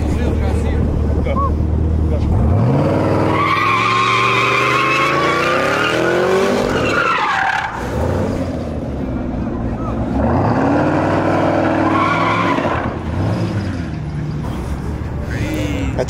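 Camaro ZL1 doing donuts, its engine revving hard in rising and falling sweeps while the tires squeal and skid loudly, close by, with brief voices in the background.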